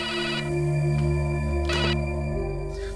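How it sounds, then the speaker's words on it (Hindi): A telephone rings in a drama scene, a steady electronic tone held for a few seconds with a short bright burst partway through. "कब से फोन बज रहा है?"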